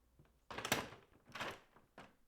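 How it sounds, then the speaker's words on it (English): A kitchen door opening and closing, recorded close: a soft thump as it swings, a second duller knock as it shuts, then a short click, each sound separate in a quiet room. "So kitchen door, open, close, click on it."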